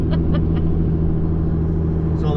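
McLaren sports cars drive past on an open road. A loud, close engine rumble holds steady throughout, with a faint voice at the start.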